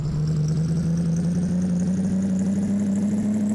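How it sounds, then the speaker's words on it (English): A truck engine in the video game Big Rigs: Over the Road Racing drones in a steady, loud synthetic hum that slowly rises in pitch, alone without talk. "The ambient hum of the engine."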